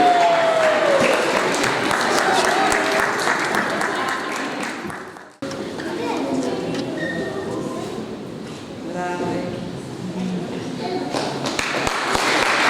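An audience applauds steadily and loudly for a primary school receiving an award, with a brief drop in the clapping midway before it resumes with scattered cheers.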